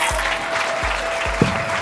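An audience at a shayari show applauding a poet, a loud dense round of clapping with no voices.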